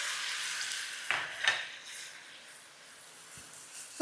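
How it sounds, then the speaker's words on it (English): Onions frying in hot oil for Nigerian fried rice: a quiet, even sizzle runs throughout, with a couple of spoon scrapes and stirring knocks against the pan near the start. "So now the oil is hot. We are going to fry our onions."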